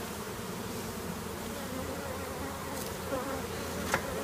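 Honeybees drone in a steady, dense buzz around a hive during requeening, a continuous moderate hum with a few individual bees zipping close past near the end.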